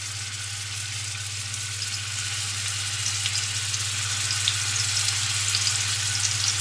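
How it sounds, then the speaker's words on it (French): Spiced beef meatballs frying in a pan, Moroccan style, give a steady, even sizzle with fine crackle that stays close and constant, with no one talking. "vous allez disposer vos boulettes. Et les faire dorer pendant 4-5 minutes."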